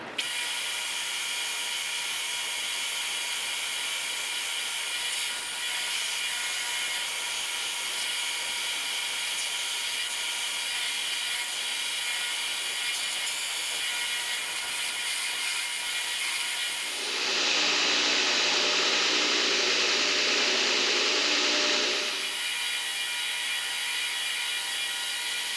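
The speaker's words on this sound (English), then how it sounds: "We'll take the Dremel tool and cut this guy off just to get it narrowed down" A continuous high-pitched whine of a Dremel rotary tool cutting metal on a hand-forged knife, steady and close, rising into a harsher, louder cut for several seconds near the end.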